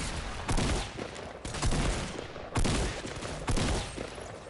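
Bursts of gunfire in a video game shootout, four loud volleys of rapid shots spaced about a second apart, close and alone with no talk.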